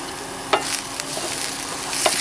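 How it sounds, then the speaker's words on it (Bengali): Cumin and chopped onion stirred in a hot pan with chili and tomato, a steady close sizzle broken by a few brief scraping knocks of the spoon. "জিরে, পেঁয়াজ কুচি দিয়ে ভালোভাবে নেড়ে নেব"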